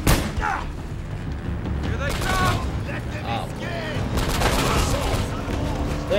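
Sustained gunfire and explosions in the video game Uncharted: Drake's Fortune, dense overlapping bursts filling the whole stretch with a loud, continuous battle din.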